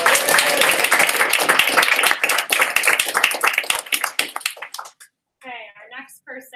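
An audience at a company sales event applauds in a loud, dense burst of clapping that thins into scattered claps and then fades, with voices chatting briefly near the end.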